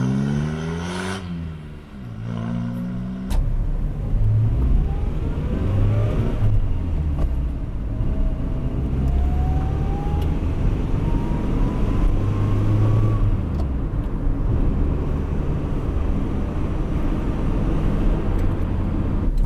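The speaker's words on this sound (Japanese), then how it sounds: "これ当時のエンジンだからというですね、下駄を履かせなくてもとってもいいエンジンです。" An EP71 Toyota Starlet Soleil L Extra with a non-injected engine runs while driving, holding a steady drone, then revving and rising in pitch through the gears, with road rumble underneath and no talk.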